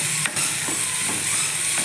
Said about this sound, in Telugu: వీటిని మంచిగా మిక్సీ చేసుకుందాం.